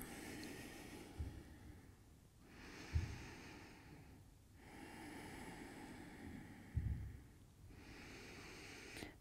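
Slow, deep breathing during a seated yoga posture, with long soft inhales and exhales cycling roughly every two seconds, close and quiet with faint nasal snorts at a few breath peaks.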